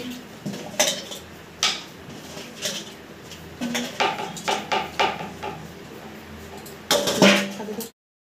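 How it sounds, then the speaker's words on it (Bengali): Ginger for khichdi is crushed with a series of irregular hard thuds and clanks against a metal or stone surface, fairly close, with gaps between strikes and a clustered burst near the end. "আমি আদাগুলা থেতো করে নিচ্ছি খিচুড়িতে দেওয়ার জন্য"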